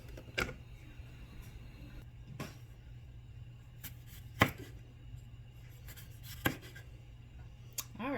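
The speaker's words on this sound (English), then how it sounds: "So I'm going to start chopping all these up" Knife chopping large garden cucumbers into chunks for 24-hour dill pickles, a few sharp separate cuts spaced irregularly, up close and fairly quiet with no talking.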